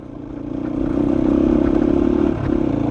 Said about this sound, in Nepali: अब उफ्रिनु भयो बाइक